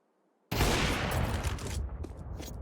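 A sudden burst of rapid gunfire in a Counter-Strike match, loud and dense after a quiet start, continuing in quick volleys for about two seconds.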